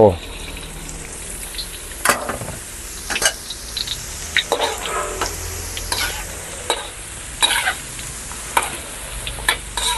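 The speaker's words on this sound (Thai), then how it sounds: "รอให้น้ำมันร้อนก็จะเอากระเทียมใส่ลงไปเจียว" Garlic sizzles and fries steadily in hot oil in a home kitchen while it is stirred, with sharp scraping clatters of a utensil against the pan every second or two.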